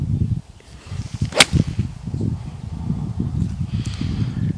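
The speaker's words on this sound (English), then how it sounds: "this is going to be like a little knockdown 9-iron into the wind" A knockdown 9-iron shot into the wind on a golf course, with one crisp sharp strike of club on ball near the middle, close, against steady wind noise.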